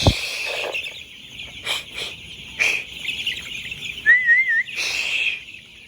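Layer-farm chicks peeping in a poultry shed after a power cut, several thin high chirps and whistles coming in short overlapping bursts, moderately close with no talking.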